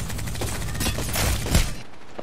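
Enemy gunshots in Apex Legends fired from the bottom of a hill, a rapid rattling volley of shots at moderate loudness over a couple of seconds before cutting off.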